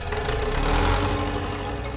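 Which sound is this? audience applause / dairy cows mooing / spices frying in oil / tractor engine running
tractor engine running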